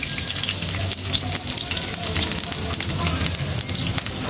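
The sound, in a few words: chopped onion and green chilli frying in a pan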